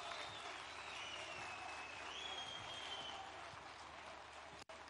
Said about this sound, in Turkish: Büyük alkışlarla lütfen.